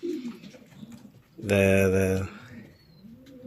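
Racing pigeons cooing in a loft, with a low, throaty coo rising clearly for about a second amid soft rustling, while someone talks nearby.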